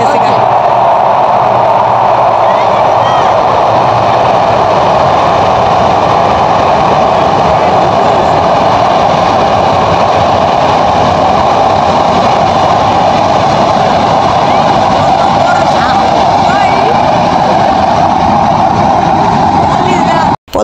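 A train crosses a railway bridge by the Padma river with a loud, continuous, heavy rumble that holds steady throughout.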